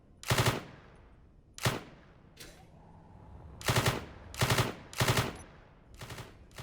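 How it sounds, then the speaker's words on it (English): An M16A2 rifle in the Space Engineers video game, with a modern character weapons mod, fires several loud, close bursts and single cracks in an irregular rhythm, with brief quiet gaps between volleys. "next up we have the M16A2. Now this fires like 3 shots, I think."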